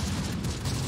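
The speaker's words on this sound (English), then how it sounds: "Let's hit him with some artillery." Artillery fire in the World War II strategy game Close Combat: The Bloody First, heard as a continuous heavy rumble of booms and blasts with strong low end, sustained and loud throughout the whole second.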